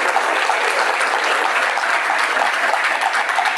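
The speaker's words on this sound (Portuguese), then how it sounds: "Quiero pedirles que podamos darle un aplauso a nuestros invitados, a Gonzalo, a Lama." Audience applause for guests at a talk on compassion and lucidity in relationships, a dense steady wash of many hands clapping at even loudness throughout, with no voices over it.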